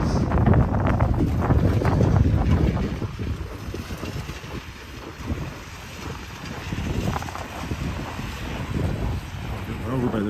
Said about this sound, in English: as one would expect at minus 19 with the wind blowing